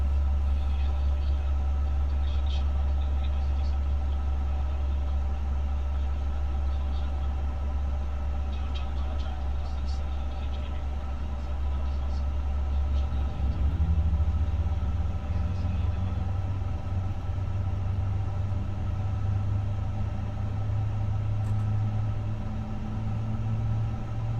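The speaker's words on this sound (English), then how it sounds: "Alright, that looks like a good start in engine number 1, starting engine number 2" Emirates Airbus A350 jet engines spooling up during start, a steady low rumble and hum heard from inside, with a rising tone building in the later part.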